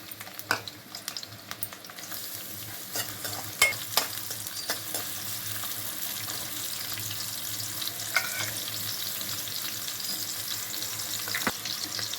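Onions fry in hot oil in a kadai for a dry prawns and ridge gourd curry, giving a steady close sizzle with a few sharp stirring clicks near the start and scattered soft knocks.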